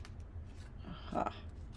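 Scissors snip through paper while making handmade Christmas tags for an album, a brief close crisp cut standing out over low room noise near the end.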